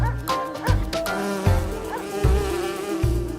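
Bees buzzing in a steady, close drone with a tonal hum, while recurring low thumps and musical tones from a children's show sound underneath.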